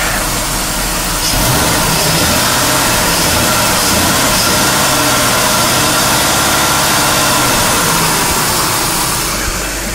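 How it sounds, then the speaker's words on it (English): A car engine revved with throttle inside a garage, a continuous loud, rough mid-low drone with rising and falling revs throughout, heard up close and alone with no voices. "Just a perfect sounding engine."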